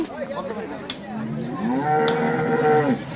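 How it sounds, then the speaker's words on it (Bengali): A cow moos in a long, drawn-out low call at a Bangladeshi cattle market, fairly close and loud, with a brief earlier bellow and some background noise. "একটি গরু আসছে।"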